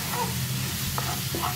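Chopped tomatoes stirred into a hot cooking mixture in a pan, a continuous sizzle with soft scraping stir strokes, close and alone without talk.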